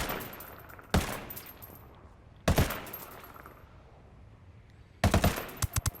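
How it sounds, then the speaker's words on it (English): MK-17 rifle shots in Ghost Recon Wildlands ring out at long range, three sharp reports spaced a couple of seconds apart, each followed by a short rattle of echo over a quiet outdoor background. "Let's see how many shots it takes with the MK-17"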